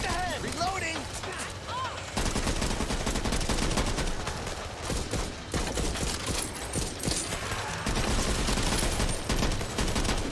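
Gunfire in a video game: a dense, continuous barrage of rapid shots, loud and close, with brief game voice lines early on.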